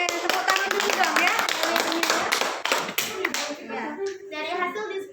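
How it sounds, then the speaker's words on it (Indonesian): Clapping from a classroom group of students, a burst of sharp, fairly close hand claps for a few seconds that fades into someone talking. "tepuk tangan dulu dong ya"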